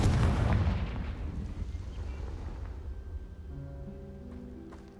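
Fiery Confringo spell blasts in the Hogwarts Legacy video game, with a heavy booming explosion at the start that rumbles and slowly fades, followed by quieter ringing tones and small pops, no voices.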